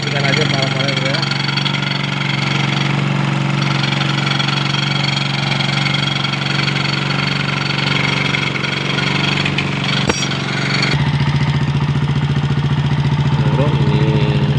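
A motorcycle engine idles steadily and loudly at close range while its wet battery is checked, with the engine note shifting slightly partway through and someone talking over it.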